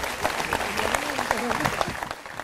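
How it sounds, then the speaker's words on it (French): Applause from the crowd at a Republican party fête in the Bouches-du-Rhône, sustained clapping with a voice speaking over it. "on peut les applaudir parce que c'est vrai qu'ils ont bien travaillé"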